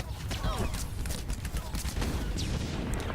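A mortar volley in the video game Star Wars: The Old Republic, a dense rapid fusillade of blasts and whooshing projectiles under continuous loud battle noise.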